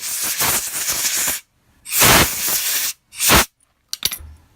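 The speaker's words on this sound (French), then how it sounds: "je passe tout à soufflette moi, pour être sûr que tout est ok" A compressed-air blow gun cleans oil parts from a KTM 350 EXC-F motorcycle in short, close, loud hissing blasts, three in a row with gaps, ending in a few light metallic clinks.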